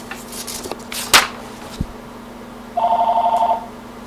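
A telephone rings in a classroom, a short burst of rapid electronic trilling after a few scattered knocks and a thud, loud and close with no talk over it.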